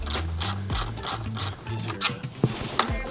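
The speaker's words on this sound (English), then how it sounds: "Now we just gotta remove the bolts that are supporting it in, and it should just slide right out." A ratchet wrench clicks in quick repeated strokes as alternator mounting bolts are removed from a Corvette, close and clear with no talking.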